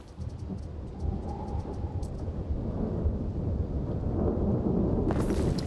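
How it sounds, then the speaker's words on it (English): Thunderstorm in the video game Anno 117, a steady rumbling wash of rain and low thunder that swells slightly and stays loud throughout, with a brighter crackling burst near the end. "It's constantly raining. It's always wet. There are storms,"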